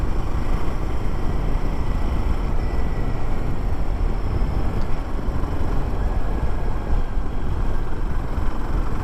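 A Royal Enfield Himalayan 450 motorcycle engine lugging in fifth gear at low speed, a steady loud rumbling drone mixed with wind rush, continuous and unbroken throughout.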